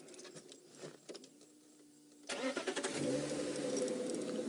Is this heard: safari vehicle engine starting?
yes